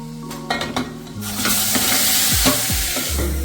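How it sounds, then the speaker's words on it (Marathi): Water poured into a pan of crab curry made with turmeric sets off a loud, close sizzle as a spoon stirs and scrapes, after a few brief metallic clinks at the start, with no talking. "पाणी टाकायचं"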